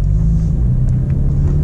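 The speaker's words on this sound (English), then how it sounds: "Do a little driving here again." A 5th-generation Ford Focus RS drives on a road, its engine giving a steady low rumble with constant road noise and no voices throughout.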